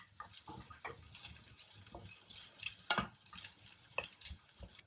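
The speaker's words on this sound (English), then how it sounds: "So stir fry it very well." Chopped ginger and green chilies being stir-fried in a pan for a South Indian dish, with repeated scraping and clattering of a spoon against the pan over a soft background sizzle, close and fairly quiet, no talk.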